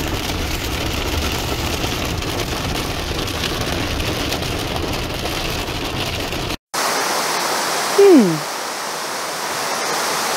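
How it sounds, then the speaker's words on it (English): Steady broadband roar of a waterfall in a waterfall park in the Chechen Republic, loud and continuous, broken by a brief cut and a short tonal squeak near the end. "finally, in the evening, we have reached the waterfall park"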